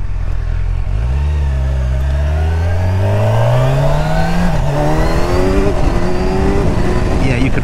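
A 2023 Kawasaki Ninja 1000 SX motorcycle accelerates hard through several gears, its loud engine note rising in pitch and dropping at each shift, heard continuously from the rider's position amid strong wind noise.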